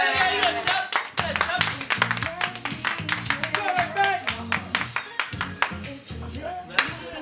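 A few people clap close by in quick, uneven bursts while voices chatter and music plays underneath.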